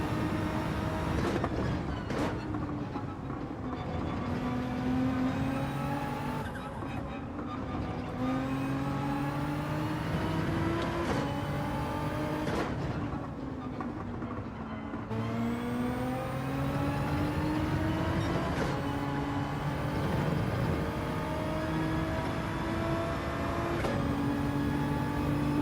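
Gr.3 race car engines at Spa in Gran Turismo 7 drone loudly and continuously, pitch rising through gears and dropping on shifts, with several cars close together in a steady wall of engine noise.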